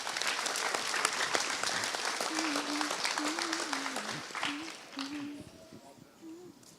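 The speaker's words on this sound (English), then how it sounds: "Let's give our perfect attendance recipients one more round of applause." Sustained applause from a school awards audience honoring perfect attendance recipients at a middle school ceremony, steady dense clapping throughout, with a faint voice or tone drifting underneath and the clapping thinning toward the end.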